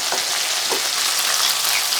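Beef ho fun noodles stir-fry in a hot pan with a steady bright sizzle, broken by a few soft tossing scrapes, close and alone with no talking.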